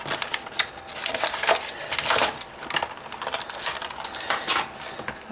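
Bakugan Evolutions Pyrus Platinum Neo Dragonoid toy packaging being ripped open, a close run of crinkly plastic and cardboard tearing and rustling bursts with no talk.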